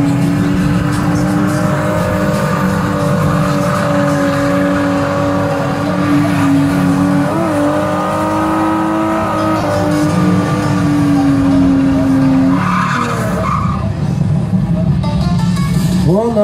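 A drift car, one of the rare cars entered from Britain, revs hard and holds a loud sustained engine note through a long slide at a Latvian drift cup round in Jelgava, easing off toward the end while a commentator talks throughout.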